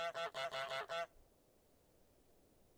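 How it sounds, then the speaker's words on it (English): A goose lets out a quick run of about five loud, close honks, then falls silent with only faint background hiss. "He lets out honks of desperation."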